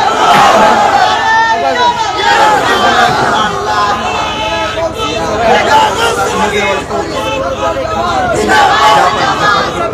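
A large religious gathering (mahfil) crowd roars a loud, sustained takbir chant in unison, a dense wall of voices swelling and surging throughout.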